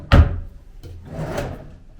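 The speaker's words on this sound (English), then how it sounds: "All 3 drawers pull out," Wooden dresser drawers in a Las Vegas hotel room at The Mirage sliding open, with a sharp knock at the start followed by softer rubbing, scraping slides, close and fairly loud with no talk.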